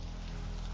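Steady rain falls close by in an even, unbroken hiss with no voices, heard from shelter while waiting out a downpour.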